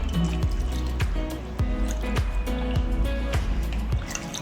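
Water is poured into a pot for Chinese-style braised pork, with close, rhythmic glugging and splashing pulses repeating throughout.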